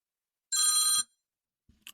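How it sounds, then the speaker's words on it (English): A telephone bell rings once in a single half-second burst, loud and alone, followed by silence and a faint knock. "We have a phone call coming in."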